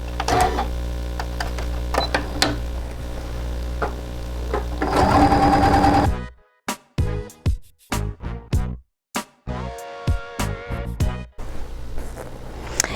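Sewing machine stitching quilt strips with a quarter-inch seam: a steady fast mechanical whir for several seconds, then stops and restarts in short choppy bursts and clicks; no talk.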